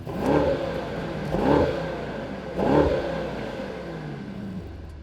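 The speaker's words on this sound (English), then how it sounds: "He's making a noise, isn't he? Revving his engine." A Mercedes-AMG GT 63 4-Door engine revs three times in quick succession, each rise swelling and falling back to a low idle.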